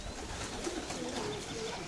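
Racing pigeons coo softly while arriving at a loft, a faint low cooing under a steady outdoor hiss, fairly distant and quiet.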